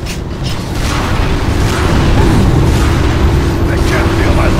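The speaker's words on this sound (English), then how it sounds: "I'm taking heavy fire!" Heavy weapons fire in Unreal Tournament 3 makes a dense, loud, continuous booming roar with explosive low rumble and mechanical clatter throughout, with a voice talking over it.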